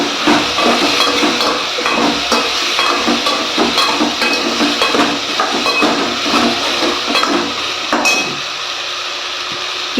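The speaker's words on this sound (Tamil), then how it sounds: "இப்போ உருளைக்கிழங்கு வந்து சேர்த்துட்டு நல்லா கலந்து விட்டுருங்க" Potato pieces are stirred into a sizzling tomato masala in a pan for kadalai curry, with a spoon scraping and clacking in a quick, repeated rhythm before the stirring stops and a quieter hiss remains.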